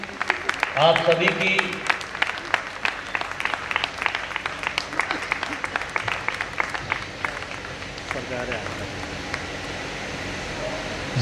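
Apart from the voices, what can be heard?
loud applause from the audience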